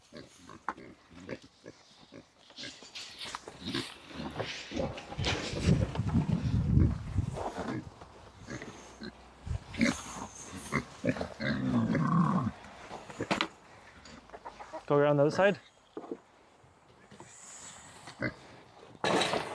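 Pigs grunt and squeal intermittently while being herded toward a crate on a farm, close and fairly loud, with a person talking and coaxing them throughout.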